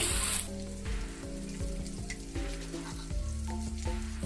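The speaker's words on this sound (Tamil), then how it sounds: "மசாலா தடவுல எல்லா மீனையும் நம்ம இப்போ வந்து ஆயிலில் சேர்த்துட்டோம் இது ஒரு பக்கம் நல்லா பொரியட்டும்" Masala-coated fish pieces fry in hot oil in a pan, giving a loud, close, continuous sizzle and crackle with no one talking.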